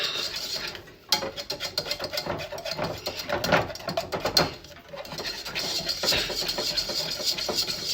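Electric hand whisk whirring steadily in a home kitchen for bourbon bread pudding, a dense buzzing drone with brief dips and rattling mechanical texture, close and continuous.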